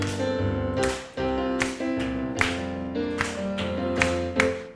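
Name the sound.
hands clapping together in a church prayer meeting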